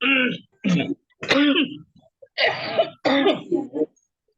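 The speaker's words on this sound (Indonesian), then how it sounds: "lagi batuk ini ya" A run of harsh, voiced coughs and throat-clearing bursts, five or six in close succession, loud and near, with short pauses between them.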